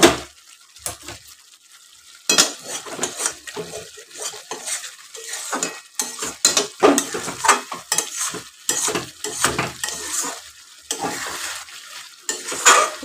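Chicken coated in Bengali-style ground garam masala paste fries over raised heat in a pan, loud repeated stirring scrapes and clatters over a steady sizzle, after a quieter opening.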